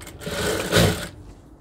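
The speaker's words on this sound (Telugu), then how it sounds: "ఇక్కడ వరకు కుట్టుకుంటాం" A sewing machine stitches palazzo pant fabric in one continuous close whirring run of about a second, then stops, leaving quieter handling noise.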